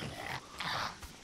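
A dog growls in the horror video game Resident Evil 7, two or three rough, snarling bursts close by with short gaps between them.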